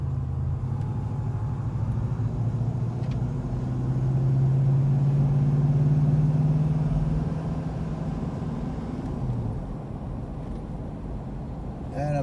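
A 1980 Pontiac Trans Am Bandit Special Edition engine rises in a low, steady rumble from inside the quiet cabin as it gently accelerates, swelling mid-clip then easing back down.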